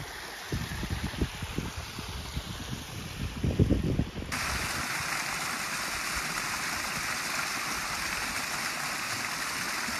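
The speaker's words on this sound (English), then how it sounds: "Worth coming down to see the little waterfall." A small waterfall beside a river path in the Black Mountains of Wales rushes in a steady broadband roar, joined after a few seconds by louder, closer wind buffeting the microphone, with no talking.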